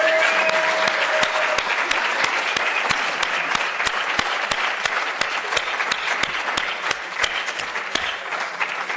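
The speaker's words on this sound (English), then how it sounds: "I need a round of applause for Amy" Loud, sustained applause from a conference audience at the SACO 4th International Conference, with dense, steady clapping and a few sharp individual claps standing out throughout.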